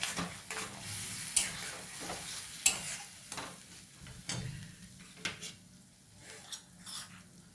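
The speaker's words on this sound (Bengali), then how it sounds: "এবার ভালো করে নাড়াচাড়া করতে হবে।" A spoon stirring fish-head dal made with catla fish and cumin powder in a pan, with soft scraping strokes, occasional clinks against the metal and a faint sizzle, fairly quiet.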